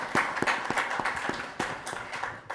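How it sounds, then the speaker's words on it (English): Conference audience at a medtech summit giving a short round of applause, a moderate patter of distinct claps from a modest crowd with no talking over it. "So if we can just kind of give a round of applause for that."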